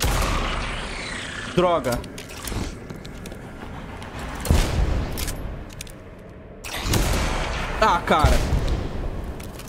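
Heavy rifle shots in the first-person shooter Blood West, fired as sharp booming reports at about 1.5, 4.5 and 8 seconds, each ringing briefly, with someone talking between them over a low game ambience.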